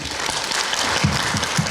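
Applause from a crowd at a youth awards ceremony, a dense wash of many hands clapping, with a few louder individual claps standing out near the end.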